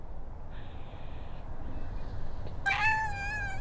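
Cat meowing outdoors, a single drawn-out wavering meow that rises late and stays moderately loud over quiet background hiss, with no talking.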